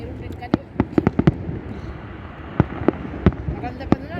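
Fireworks going off at night, a series of sharp distant bangs spaced irregularly over a few seconds, with people talking in the background.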